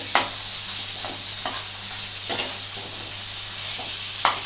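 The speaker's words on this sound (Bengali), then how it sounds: "এটাকে সুন্দর করে একটু মাখনের মধ্যে ফ্রাই করছি" Green beans sizzling in butter in a pan, a steady broad crackle with a few sharper spits and scrapes of stirring scattered through, close and fairly loud, no talking.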